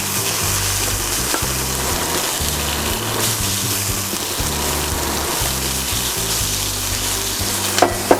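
Chopped onion and carrot fry in butter in a pan, giving a loud, continuous close-up sizzle with a low rumbling hum beneath and a couple of sharp clicks near the end.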